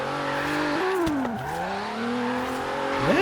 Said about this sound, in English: It's a very, very underestimated drift car.